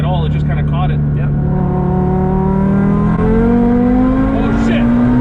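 An Audi RS3 tuned as an IMS1000 build revs hard through downshifts, its engine note climbing in loud, sustained pitch sweeps heard from inside the car over road and cabin noise.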